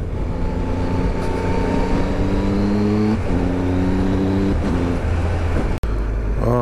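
A 2018 Triumph Tiger 1200 motorcycle pulls hard in sport mode on a coastal road in Donegal, its engine loud and steady with rising and falling harmonic tones as it shifts through gears, heavy wind rush underneath.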